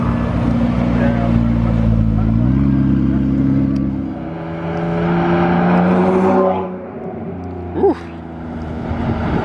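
Hypercars such as a Bugatti Chiron, Veyron, Koenigsegg Regera and Pagani rolling past at a supercar owners' gathering, engines droning and revving in passing waves, with people talking nearby.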